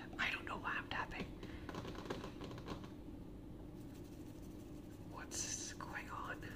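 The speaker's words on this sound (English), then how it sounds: "Then why am I tapping? I don't know why I'm tapping." Fingertips tap lightly in quick, soft patter bursts for an ASMR session, close and gentle, mixed with whispered and spoken talk.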